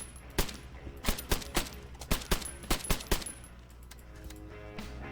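Weapon in Arma 3 firing at a low rate, a string of about a dozen loud, evenly spaced shots with echoing tails that stop and leave a quiet room tone.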